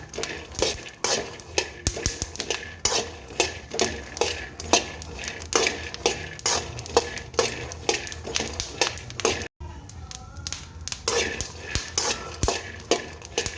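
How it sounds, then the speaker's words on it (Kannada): Peanuts dry-roasting in a pan are stirred with a spoon, giving close, rhythmic scraping and rattling strokes in a steady run that pauses briefly midway, then continues. "ನೋಡಿ ಚೆನ್ನಾಗಿ ಹುರಿತಾ ಇದ್ದಾವೆ ಶೇಂಗಾ"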